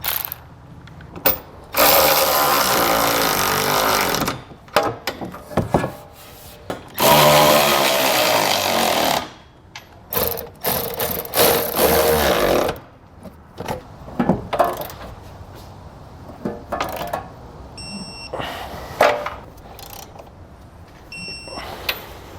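Power tool driving a 3/4 inch socket to tighten Curt trailer hitch bolts under a vehicle, several loud whirring bursts of a few seconds each separated by pauses, clanks and shorter rattling runs, close by.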